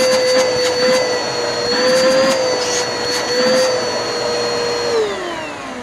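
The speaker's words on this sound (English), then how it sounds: "It's a pretty rough sounding motor." Worn Bissell PowerForce Helix Turbo 2190 upright vacuum cleaner motor running steadily with a loud, rough, high whine that drops slightly in pitch near the end.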